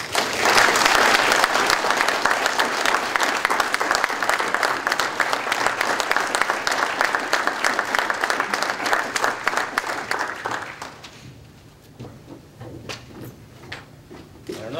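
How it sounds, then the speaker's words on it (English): Audience at an Army command sergeant major's retirement ceremony applauds in a loud, sustained burst of clapping that fades out after about ten seconds, leaving scattered claps and room noise. "Ladies and gentlemen, let's give a round of applause."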